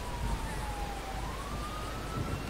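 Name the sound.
police sirens in a video game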